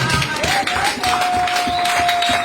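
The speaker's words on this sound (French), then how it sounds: "Est-ce qu'on peut applaudir pour la grâce de Dieu?" Church congregation clapping together after a preacher's call during a sermon, a steady dense patter of many hands with a faint sustained tone running underneath.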